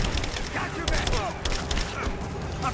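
Sustained rapid gunfire and explosive bursts from Rise of the Tomb Raider, loud and dense, with a voice briefly audible within the chaotic combat noise.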